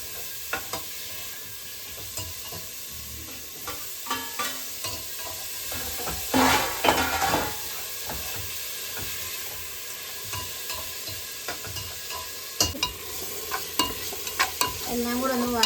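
Onion and tomato fry with a little salt in a pan, a steady close sizzle broken by repeated scraping stirs of a spoon, with a louder stirring burst partway through and no talking.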